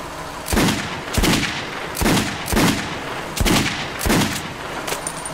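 Pistol shots from the video game Metro 2033 Redux fire in a fairly regular sequence of about seven sharp, loud reports, each with a brief echoing tail, alone without talk.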